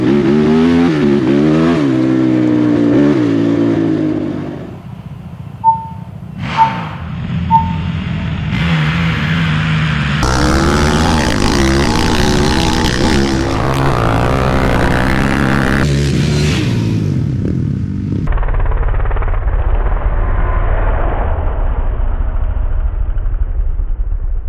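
Quad ATVs, a Honda YFZ450R among them, drag race in a high-revving pass, engines screaming through gear shifts with rising and falling pitch, loud and close, then dropping to a lower steady drone as the run ends.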